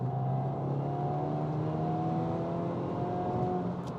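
Hyundai i20N four-cylinder engine holding a steady, droning note for several seconds, fairly loud and continuous with a slight rise near the end, no voices over it.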